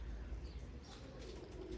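Pigeons coo softly and faintly in a loft, a low murmur of calls under a quiet background.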